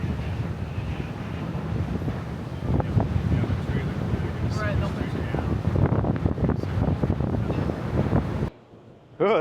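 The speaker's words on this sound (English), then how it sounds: "Oh, this is freaking windy." Strong wind buffets the microphone on the open deck of the Spokane ferry, a steady roaring rush with faint sea and vessel rumble beneath, a few voices heard through it, then a brief drop near the end.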